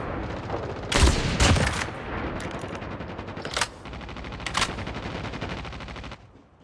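Rapid bursts of gunfire from Call of Duty Mobile multiplayer, loud and close, with heavy volleys early on, then sharper single shots and short sprays that continue to the end.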